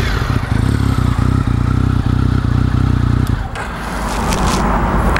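A Triumph Tiger 1050 inline three-cylinder motorcycle engine runs with a steady, throbbing idle and clattery mechanical ticking, then the note drops away and a rougher, scraping rumble follows near the end.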